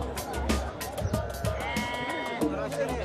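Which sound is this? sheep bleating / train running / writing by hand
sheep bleating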